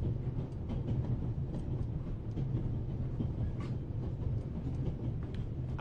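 A passenger train runs along the rails, giving a steady, loud, continuous rumble with a faint rhythmic clatter throughout and no voices.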